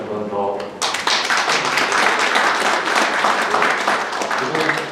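A crowd at the founding assembly of an Incheon civic group bursts into dense applause in approval of a proposal, starting after a brief spoken moment and continuing loud and steady throughout.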